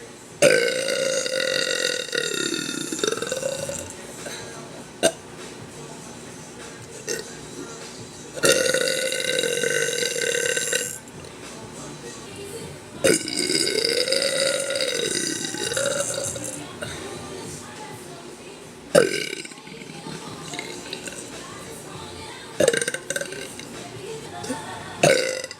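A young person lets out a series of long, loud, drawn-out burps, several in a row separated by short pauses, with some talking mixed in between.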